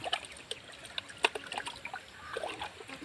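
Water is poured onto eggplant seedlings in pure garden soil and vermicast, giving soft, irregular trickles and small splashes close by, quiet overall with a few sharper drips.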